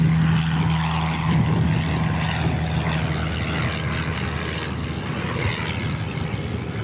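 Propeller aircraft engine droning steadily at Christchurch Airport, a continuous loud hum with a low tonal component, heard alone without voices.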